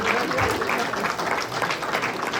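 Church congregation applauding during a sermon, a short, loud burst of clapping blended with voices.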